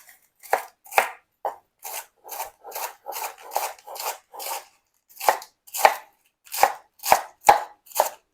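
A knife chops lettuce for a salad on a cutting board: a steady run of about sixteen crisp, close strikes in an uneven rhythm, with brief gaps between bursts and no talking.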